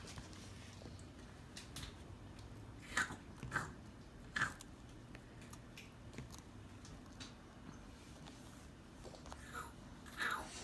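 An eight-month-old baby crunches and chews Plum Organic Super Puffs, giving faint, sporadic crisp bites and munching in a quiet room, with a few louder crunches standing out.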